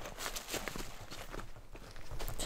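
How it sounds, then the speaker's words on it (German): A bear walking near a high mountain hiking trail, heard as a steady run of soft, close footsteps crunching on the ground, with no one talking. "Hörst du die Schritte?"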